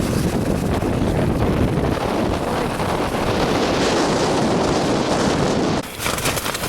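Strong wind roars continuously against a tent at a winter mountain campsite on a solo ski-touring trip in the Italian Alps, loud and gusting, with a brief drop near the end.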